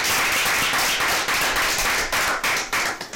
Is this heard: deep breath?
no